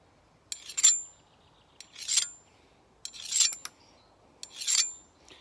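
A handheld carbide sharpener drawn along a tool's edge in four separate rasping strokes, each a short scraping burst followed by a quiet pause, close and clear.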